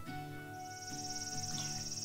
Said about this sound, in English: I can hear the chirping of cicadas